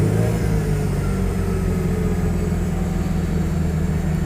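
An NSU Ro80's Wankel rotary engine runs and revs, giving a steady, smooth, humming drone with a buzzy mid-range tone, fairly close and uninterrupted.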